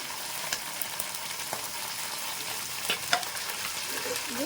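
Green chillies, curry leaves and coriander frying with onions in a pan for a Nellore-style fish curry, a continuous soft sizzle with a few spoon taps and scrapes, close but moderate in level, no voices.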